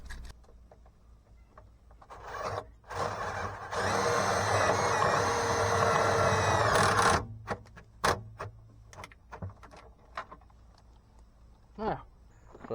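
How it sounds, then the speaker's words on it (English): A power drill fitted with a 90-degree angle bit whirs steadily for a few seconds during a Minn Kota Powerdrive trolling motor install, bracketed by clicks, taps and handling noises before and after. "Put it in your drill. It's a 90-degree bit."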